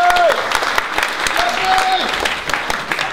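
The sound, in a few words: audience applause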